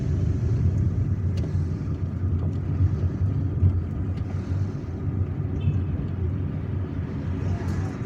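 Steady low rumble of a car rolling along Hassiba Ben Bouali Street in Algiers, heard from inside the cabin as a constant road drone with faint traffic sounds beyond.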